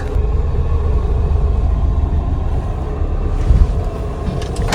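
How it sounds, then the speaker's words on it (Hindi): A car engine runs while the car reverses with the air conditioning on, heard from inside the cabin as a loud, steady low rumble with no talk. "तो अभी गाड़ी करते हैं जी बैक।"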